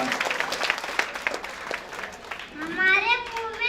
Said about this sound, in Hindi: बच्चे लोग पुरजोर तालियों से इस्तकबाल करें